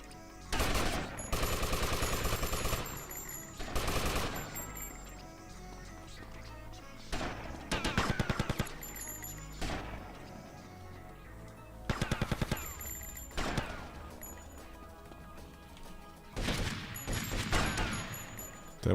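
Loud bursts of SMG fire in GTA Vice City come in several rapid rattling volleys separated by short pauses, with crisp metallic shot transients and game background sound between them.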